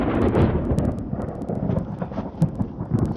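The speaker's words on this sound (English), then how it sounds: "Was the giant thunderclap really necessary?" A deep, heavy thunderclap sound effect booms and rumbles with sharp crackles over a few seconds, loud and close.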